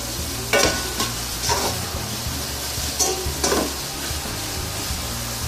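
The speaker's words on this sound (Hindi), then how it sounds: "पहले हम जरा शिमला मिर्च को फ्राई हल्का सा कर लेंगे।" Capsicum is stir-fried in a hot pan with a steady, close sizzle, broken by several scraping stirs.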